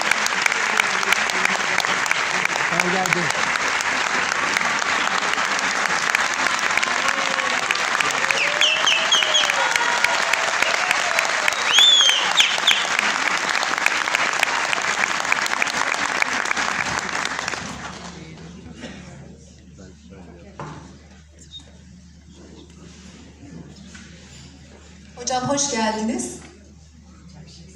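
Loud, sustained audience applause fills a hall as a speaker is invited to the stage, lasting about eighteen seconds before fading; afterward someone speaks briefly, with a short burst of noise near the end.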